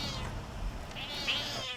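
A cat meows once, loud and close, with a drawn-out, wailing tone, then the sound trails off into a quiet room.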